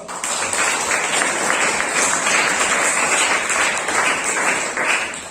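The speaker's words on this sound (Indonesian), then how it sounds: "Oke, terima kasih aplaus." Sustained applause from a classroom audience during an Islamic religious education lesson, many hands clapping steadily and fairly loudly for about five seconds with no talking.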